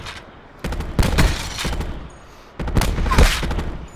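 Video game gunfire from a shooter, two close bursts of rapid shots, each lasting about a second and a half, loud against quiet background.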